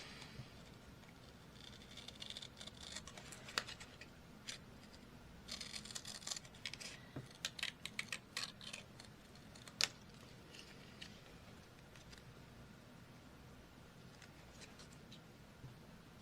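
Scissors snip out a paper heart in a quiet room, a few scattered bursts of short crisp cuts and paper rustles, faint and close, separated by quiet stretches.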